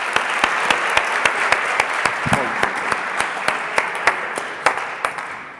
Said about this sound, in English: Warm welcome and round of applause for Marta and for DKV.